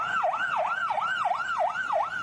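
An ambulance siren wails in a steady rising-and-falling pattern, about six sweeps, loud and close, as the ambulance moves along a road where traffic has been stopped.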